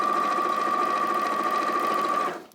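A sewing machine stitches quilt block pieces in a steady, loud, fast whirring hum with a clear motor whine, running alone for about two seconds before winding down and stopping.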